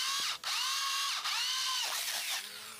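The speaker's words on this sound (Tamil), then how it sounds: "3 ப்ளேவுட்டில் மட்டும் இந்த பிட்டை யூஸ் பண்ணி ஹோல்ஸ் வந்து போட்டுக்கிடுவோம்." A power drill fitted with a 44 mm bit bores holes through plywood, its motor whining loud and close in steady bursts, briefly dipping twice as the bit bites, with no voices.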